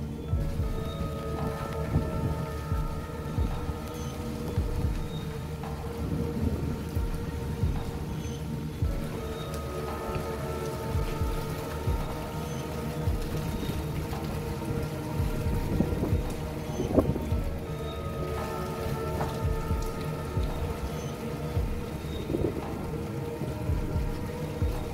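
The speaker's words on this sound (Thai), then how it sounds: "นี่แปลกนะเราได้กลับมาหลบฝนกันตรงจุดนี้อ่ะ" Heavy rain pours steadily during a storm, with low rumbles of thunder now and then beneath the constant hiss, heard from a sheltered spot.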